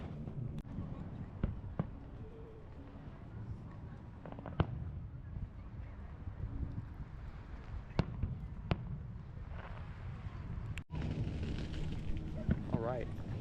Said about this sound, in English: Got the fireworks going.